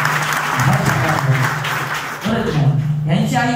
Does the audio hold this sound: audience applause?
yes